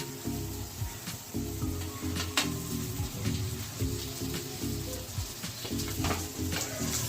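Rohu fish and egg cutlet mixture sizzling and frying in a pan while being stirred, a steady close crackle with repeated scraping stirs and no talk.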